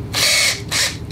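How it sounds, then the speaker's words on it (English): A power drill runs in two short bursts, a high whirring whine separated by a brief pause, close and loud, used during a Craftsman 27-inch snow blower rebuild. "I hate this drill."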